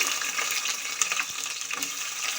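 Onion added to hot oil with whole spices for mutton bone kuzhambu, a soft, steady hiss of frying with a few light knocks and stirs, fairly close and even.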